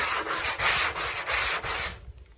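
Hand sanding of soft aluminum with 120-grit sticky-back sandpaper on a long sanding block: six even, rhythmic rasping strokes close up, then it stops.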